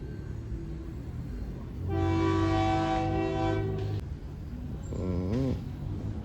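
A freight train hauling a few cars sounds a loud, sustained multi-tone horn blast of about two seconds over steady rumble, followed by a shorter, wavering horn call.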